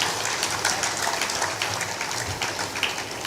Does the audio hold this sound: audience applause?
yes